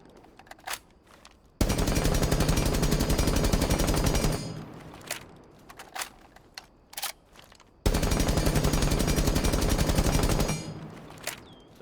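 Assault rifle with a compensator and other muzzle attachments firing in Rainbow Six Siege: two long, loud sustained full-auto bursts, each around three seconds, with scattered single shots and clicks in the quieter stretches between, and no voices.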